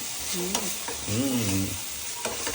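Oil sizzles steadily in a pan as food is stirred, a close, continuous hiss with a few sharp scraping clicks, while a voice briefly sounds over it.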